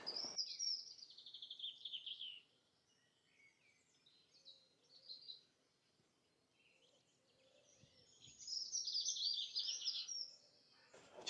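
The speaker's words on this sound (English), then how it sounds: "Just listen to the sound of those birds." Birds singing beside a Cornish river, bright chirping phrases including a chiff chaff's early breeding call, strongest at the start and again near the end, with a quieter lull of faint calls between.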